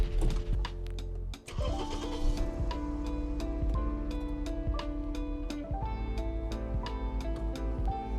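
A car's 1.6-litre engine is started with a Gearo GE0101 jump starter: a brief strained crank and dip, then the motor catches and settles into a steady, rhythmically ticking idle, with no talking.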